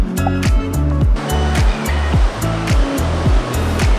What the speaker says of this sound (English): You see the full force of the Indian Ocean crashing against the rocky reef